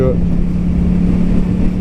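A motorcycle engine drones steadily while riding, a loud low hum with wind rush, heard close and continuous throughout.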